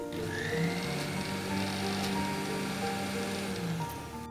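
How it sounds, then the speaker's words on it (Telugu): A mixer grinder blends a ginger garlic garam masala paste of cinnamon, cloves, poppy seeds, coconut and water, making a continuous loud whirring drone that holds steady for the whole stretch. "ఇది ఒకసారి మిక్సీ పెట్టండి."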